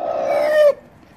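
A single harsh, drawn-out displeasure squawk from a bird, loud and close, cutting off abruptly into quiet.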